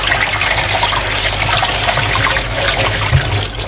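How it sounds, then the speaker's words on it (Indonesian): Cold water pours steadily over blanched green beans, a continuous close splashing rush that runs the whole time without pause. "Nah supaya dia berhenti masak, kita siram aja sama air dingin"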